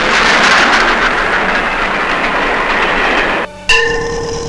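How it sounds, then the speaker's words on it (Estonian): Narrow gauge train on the Tallinn-Virtsu line rumbles past loud and close with a continuous rolling roar, then cuts off abruptly and gives way to a clear sustained tonal whistle or horn. "Tallinn-Virtsu rong läheb viimasele reisile."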